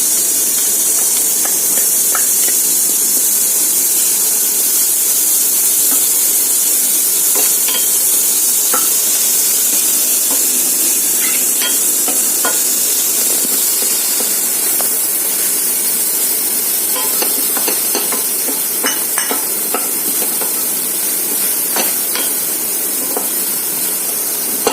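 Chopped ginger, green chilli and garlic sizzle and hiss in a dry pan with no oil, a steady close frying crackle with occasional stirring scrapes throughout, no voices.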